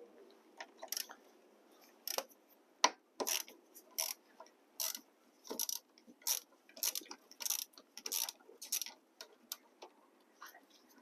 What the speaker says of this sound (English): 10mm deep well socket, and we're going to remove the negative terminal first.